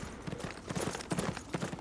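Horse hooves clip-clop in Metal Gear Solid Peace Walker, a quick irregular run of hoofbeats on a rough surface, fairly close and steady, heard alone over a noisy background.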